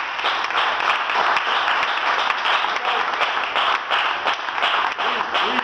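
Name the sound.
applause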